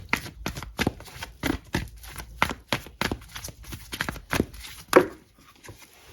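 Tarot cards are shuffled in a quick run of crisp, close riffling slaps, irregular bursts about every half second that pause briefly near the end.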